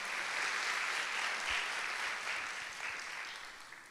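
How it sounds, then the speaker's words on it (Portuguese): A church congregation gives a strong round of applause during a service, a dense steady wash of clapping that fades gradually toward the end. "Pode aplaudir o Senhor, se é para Ele, dê um aplauso bem forte"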